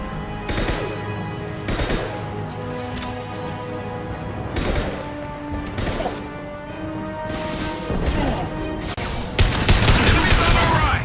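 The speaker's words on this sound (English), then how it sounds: "Firing a high-impact shot." High-impact gunshots in Mass Effect 2, a series of loud, sharp individual shots spaced a second or two apart, close by, with a denser burst of fire near the end.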